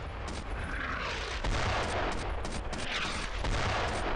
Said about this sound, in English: it's definitely the mortar.